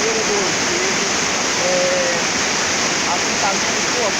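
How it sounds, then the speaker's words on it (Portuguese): Steady, loud roar of the Cachoeira do Orfeiro waterfall at Boa Forte settlement in Iramaia, Bahia. Dense rushing water fills the whole clip without letting up, with someone speaking over it. "É uma cachoeira muito maravilhosa, né?"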